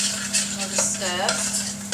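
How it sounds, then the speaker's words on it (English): Sausages and vegetables sizzle loudly in a pan while a utensil stirs and scrapes through them, close and continuous with a steady low hum beneath. "Another stir."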